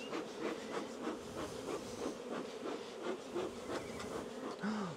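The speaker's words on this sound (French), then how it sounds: "Il y a trop d'abeilles là." Honeybees buzz around an overcrowded beehive in spring, a steady, dense hum with pulsing swells, moderately close and with no voices.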